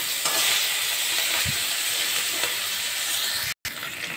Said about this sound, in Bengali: এই মাছগুলো এই যে লাল লাল করে ভাজতে হবে ভালোভাবে।